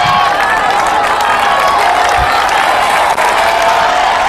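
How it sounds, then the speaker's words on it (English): Nyambai football fans in a stadium at a final against Gidda clap and cheer in a loud, continuous roar of crowd noise with dense clapping and shouting throughout. "I can see Nyambai fans clapping,"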